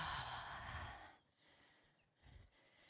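A slow, deep exhale during guided relaxation breathing, a soft airy rush that fades out after about a second, followed by quiet and a faint second breath.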